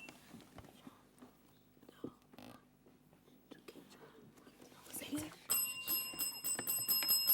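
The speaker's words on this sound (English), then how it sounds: "That bell means I can't take that answer. The time is up." A quiz show time-up bell on a televised junior schools quiz rings near the end, a bright sustained metallic tone with ringing overtones, following quiet studio murmur and faint talk.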